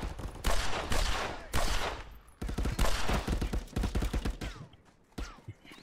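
Rapid gunfire in a Call of Duty VR shooter, with dense bursts of automatic shots and single cracks coming in clusters, loud and close, with brief gaps between volleys.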